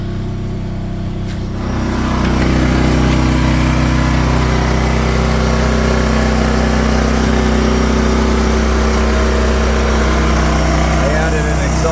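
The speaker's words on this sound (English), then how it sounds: "this lets me run the generator locked inside the garage" Firman WHO3242 portable generator running inside a closed garage, with a steady loud engine drone that rises after about two seconds and then holds level throughout.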